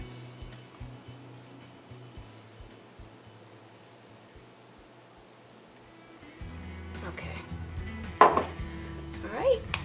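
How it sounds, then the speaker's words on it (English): Rubbing alcohol spritzed from a spray bottle onto layers of melt-and-pour soap, heard as a few short hissing bursts late in the clip over a low steady hum. "now we're going to spritz it again with alcohol so that our layers will stick together"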